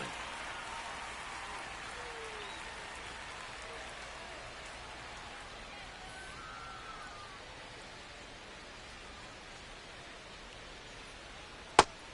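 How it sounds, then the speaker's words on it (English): Steady rain falls over a baseball stadium during a Cardinals–Yankees game, a soft, even hiss that continues with no talk, with one sharp click near the end. "This rain is not letting up."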